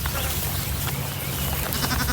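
Sheep in a lambing-season flock on a farm pasture bleat over steady outdoor background noise, with several overlapping calls spread across a couple of seconds and no talk.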